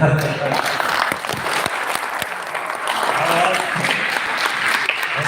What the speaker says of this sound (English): round of applause for our coaches